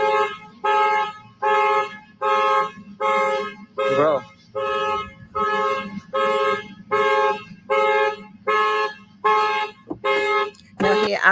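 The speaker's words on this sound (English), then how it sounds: "somebody could have set his car alarm off and stepped off" A car alarm blares nearby in a steady repeating cycle of loud electronic honks with short gaps between them, and a brief voice cuts in partway through.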